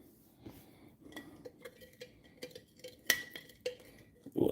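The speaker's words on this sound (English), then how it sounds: "Let me stir it one more time." A spoon stirs a homemade ginger bug soda starter in a jar, giving soft, irregular clinks and scrapes against glass, close and fairly quiet, with no talking.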